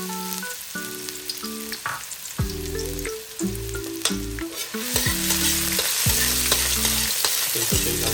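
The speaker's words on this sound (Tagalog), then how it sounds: "Mainit na yung ating oil. Maglagay lang tayo ng konting oil. Narinig nyo. Maano na siya. Unahin natin ang ating onion." Chopped onion sautéing in hot oil for pork menudo, a steady loud sizzle with repeated stirring scrapes and clanks of a utensil against the pan, while a low steady hum runs underneath.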